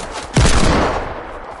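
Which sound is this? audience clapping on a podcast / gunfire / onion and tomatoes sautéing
gunfire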